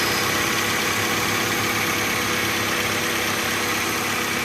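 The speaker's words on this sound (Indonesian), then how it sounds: "Ini mesin udah hidup" A first-generation Honda CR-V engine idles steadily, a loud, even mechanical hum with constant vibration and no variation in speed, heard alone without any voices.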